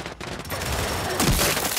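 Boltok revolver gunfire in the video game Gears of War 5, a loud burst of shots with a heavier crack about two thirds of the way through, over busy game noise and no talk.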